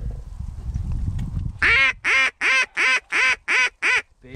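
Geese or ducks dropping in during a goose hunt give a series of seven loud, evenly spaced honking calls close by, following a stretch of low wind-like rumble.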